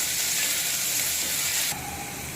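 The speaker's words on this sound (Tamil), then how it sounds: "வெங்காயம் வந்து பொன்னிறமாக வர வரைக்கும் நல்லா வதக்கிக்கலாம்" Onions are sautéed in a pan while a beetroot pulao is cooked, giving a steady, fairly quiet sizzling hiss that drops slightly in level near the end, with no talking.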